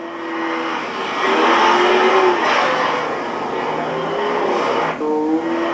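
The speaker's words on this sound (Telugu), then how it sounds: "కార్ ఇంజిన్ సౌండ్ అనమాట." An AI-generated car engine revs and roars loudly and continuously, swelling and easing with tire-squeal-like tones, close and upfront throughout.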